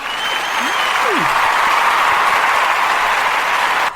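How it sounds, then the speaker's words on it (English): A sustained, loud round of applause from a small audience celebrating an inaugural podcast episode fills the space evenly from start to finish. A couple of brief whoops rise above the clapping early on. "One more round of applause."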